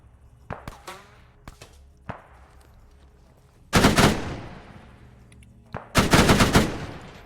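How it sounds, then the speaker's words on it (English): Gunfire exchange in Arma 3: scattered single distant shots early, then two heavy, loud bursts of rapid automatic fire with rolling echo, no talking. "we still have some shots going back and forth right there"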